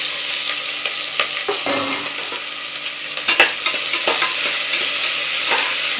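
Onions sizzle steadily in hot oil for mutton gravy while a spoon stirs and scrapes through them, with occasional louder clinks against the pan and no talking.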